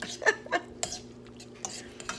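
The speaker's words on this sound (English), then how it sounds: "I'm gonna mix in that broccoli." Broccoli being stirred into chicken alfredo in a pan, with a few soft utensil scrapes and clinks against the pan, fairly quiet and spaced out, no talking.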